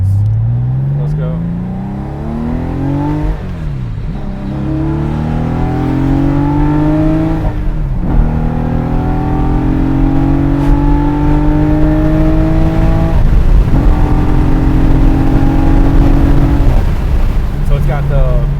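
A Porsche 964 with a 4.0-litre engine, individual throttle bodies, Ninemeister heads and RS Eurospec camshafts pulls hard through the gears, its loud rising engine note climbing and dropping at each shift, heard from inside the car.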